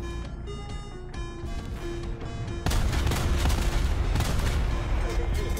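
Anti-aircraft gun bursts ring out in War Thunder, starting as sparse rapid shots and swelling into a dense, loud barrage of continuous gunfire partway through.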